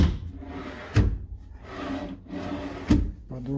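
Wooden drawers in a boutique hotel room slide open and shut several times, with rough rubbing runners and a few sharp thuds as they close, near and fairly loud.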